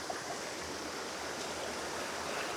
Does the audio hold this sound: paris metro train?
no